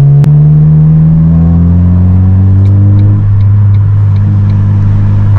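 A Mk1 Ford Focus is driven on a daytime road, its engine droning steadily and loudly with a pitch that drops as it shifts and then holds, with faint ticks and road rumble beneath.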